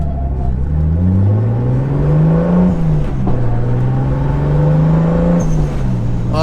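A loud, close Mk3 Toyota Supra turbo engine revs up and holds through gear changes, its raspy exhaust drone from a 3-inch turbo-back exhaust with no cats or mufflers rising and falling, with no talking.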